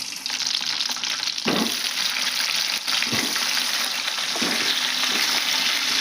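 Tomatoes sizzling in hot oil in a pan, a steady loud frying hiss with a few soft scraping stirs, close by and without speech.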